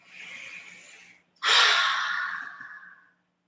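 Slow, deep breathing during a hatha yoga practice: a soft, airy inhale followed after a brief pause by a longer, louder exhale, close and alone.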